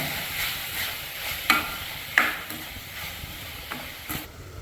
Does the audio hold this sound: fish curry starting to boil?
yes